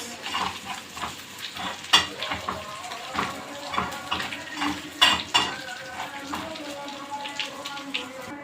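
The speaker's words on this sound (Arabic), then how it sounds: "وبحمره كده مع التومه اهي بالشكل ده" Garlic fries in a pan with starchy taro boiling residue, a steady sizzle broken by repeated stirring scrapes and clinks of a utensil against the pan.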